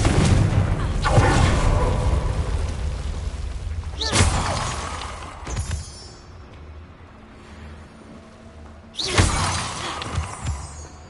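Confringo blasting spell in Hogwarts Legacy, several sharp loud explosive bursts a few seconds apart, each a crack with a short rumbling tail.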